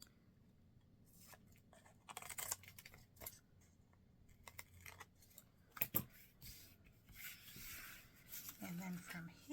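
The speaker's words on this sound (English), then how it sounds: "you're going to go ahead and cut off the excess" Scissors cutting away excess scrap paper from a handmade quilt-style greeting card, a series of soft, close snips and paper rustles at low volume, with brief handling noises between cuts.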